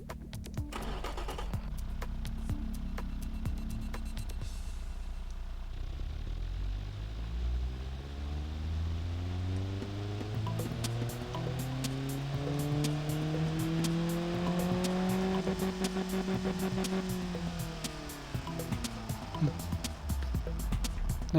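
A car engine runs on a test, climbing in revs with rising harmonic sweeps over about ten seconds, holding high, then dropping back, loud and continuous with no talk; the car has a reverse-flow and straight-through exhaust setup.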